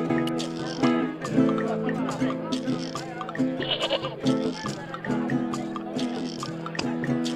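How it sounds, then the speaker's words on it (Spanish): A goat bleats in the Broken Sword 2 remastered adventure game, with repeated wavering animal cries over background game music and some talk. "La cabra, ¿qué le doy?"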